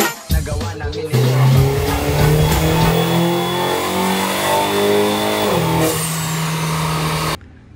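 A tuned Mini Cooper engine revs hard and steadily up close, a loud sustained drone with rising and falling pitch for several seconds before cutting off abruptly.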